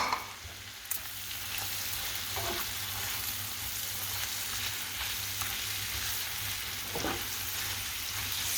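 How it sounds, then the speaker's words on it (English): Chilies and curry leaves fry in hot oil in a pan, giving a loud, continuous crackling sizzle with a few sharper pops and occasional stirring scrapes. "Now I'm going to add my chilies and curry leaves."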